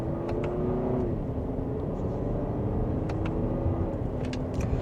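A 2025 Lexus NX350 Premium in sport mode, second gear, accelerating mildly: a steady low engine and road drone from inside the cabin with faint rising tonal hum, plus a few light clicks, no talking.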